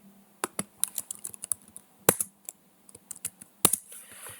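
Rapid key clicks patter on a computer keyboard, uneven bursts of close, crisp taps with brief pauses between runs of typing.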